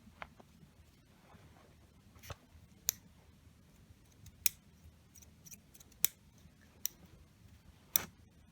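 Scissors cutting a one-foot length of material for an emergency whip, a series of sharp, separate snips spaced about a second apart, close and fairly quiet over a low background hum.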